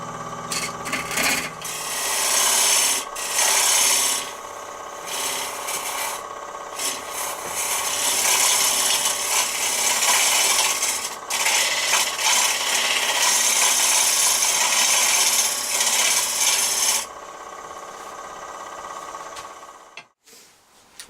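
Wood turning on a lathe, hollowing through the wood into an acrylic layer: a loud, close, continuous scraping and rasping of the tool cutting, broken by brief pauses before the sound stops near the end.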